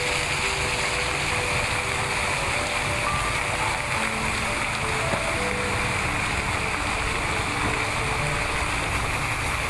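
Fountain and waterfall water in a Vientiane park, a steady, even rushing splash that fills the whole scene without pause, moderately loud, with a faint hum of distant activity beneath.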